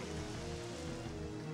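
Rain Dance in the video game Pokemon Stadium 2, a steady hiss of synthetic rainfall pouring evenly throughout at moderate loudness, with a faint low hum beneath and no voices.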